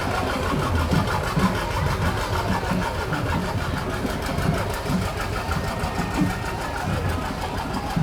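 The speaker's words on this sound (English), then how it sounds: "1959 John Deere 730 diesel." A 1959 John Deere 730 diesel tractor idles at a July 4th parade, its engine chugging steadily under crowd noise and an announcer's voice.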